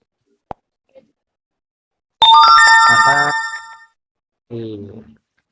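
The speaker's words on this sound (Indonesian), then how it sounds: "lalu notifikasi muncul." A phone app notification chime, a bright multi-tone ding ringing out and fading over about a second and a half, preceded by small clicks and followed by a short burst of speech.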